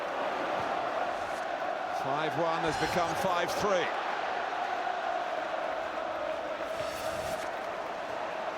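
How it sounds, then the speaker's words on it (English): Liverpool supporters at an Anfield football match during a cup quarter-final, a steady roaring stadium crowd swelling under a commentator's voice, with a brief chant-like rise in the middle. "Now watch this crowd find its voice"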